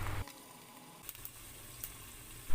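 Squid sizzles in a hot frying pan on a lit stove with a steady crackling hiss, broken by a few sharp pops and splatters, and a louder burst at the very end.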